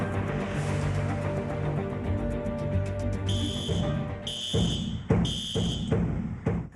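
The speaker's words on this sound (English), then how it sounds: "A fire alarm and bangs heard on a student's cell phone." A fire alarm blares in repeated loud bursts over a noisy, crowded school background, recorded on a cell phone, with sharp gunshot bangs breaking in between the alarm tones.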